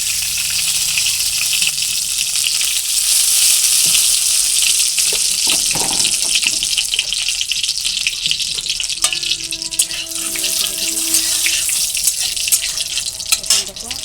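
Hot mustard oil crackles in a kadai as nigella seeds go in, a steady close sizzle and stir that runs throughout, with scattered clinks of the utensil, while preparing hilsa fish with mustard and poppy seed.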